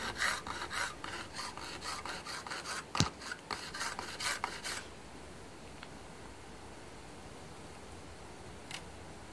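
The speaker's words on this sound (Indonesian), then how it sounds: "Kemudian saya potong dengan gergaji triplex." A hand saw rasps through thin plywood in quick back-and-forth strokes for several seconds, then stops, leaving quiet background with a faint knock.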